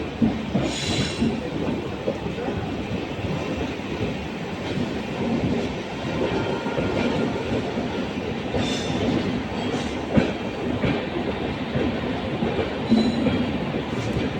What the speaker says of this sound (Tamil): பிளாட்ஃபார்ம் 1 தாங்க வருது வண்டி.